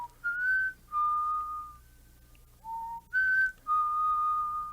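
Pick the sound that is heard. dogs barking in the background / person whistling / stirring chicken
person whistling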